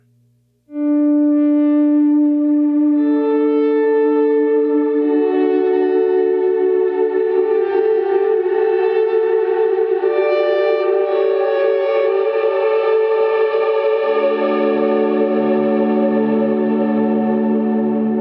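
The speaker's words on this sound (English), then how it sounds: "Logarithmic feels a bit more natural with the swell tone. So if I keep changes to logarithmic and if I turn on the reverb, this is what you get" An electric guitar plays a smooth volume-swell tone through a Line 6 POD Go with reverb, notes fading in and sustaining in layered, ringing chords that hold steadily and wash together, with no talking.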